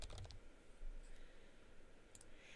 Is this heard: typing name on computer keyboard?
yes